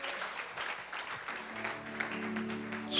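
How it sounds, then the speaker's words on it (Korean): Congregation applause during a church revival service in New York, a moderate, fairly distant patter of clapping with faint musical tones beneath. "우리 귀한 목사님 감사 박수하겠습니다."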